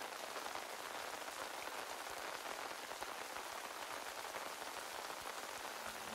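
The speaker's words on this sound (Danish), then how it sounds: "Regnen siler ned omkring dig" Heavy rain falls steadily on a paved road and umbrella, a dense, even hiss of countless drops, close and unbroken throughout.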